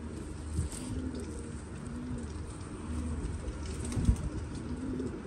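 Soft, repeated cooing of pigeons, the fancy kabootar kind kept by a breeder, running steadily as a low background layer with a few brief bumps.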